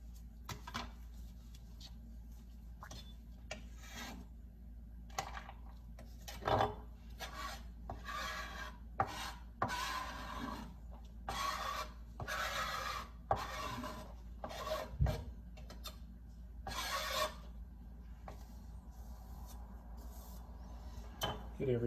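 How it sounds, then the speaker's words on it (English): Garlic being grated on a microplane, a rhythmic series of close rasping strokes repeating steadily with brief pauses between scrapes. "with garlic, I like to take it on a microplaner. Rub it all the way down and get all the ingredients in there."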